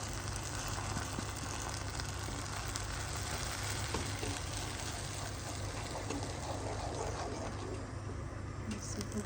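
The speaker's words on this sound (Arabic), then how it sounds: "طشة الملوخيه" A garlic tempering for molokhia sizzles and fries loudly in a hot pan, a continuous crackling hiss that stays close and steady, with faint kitchen noise underneath.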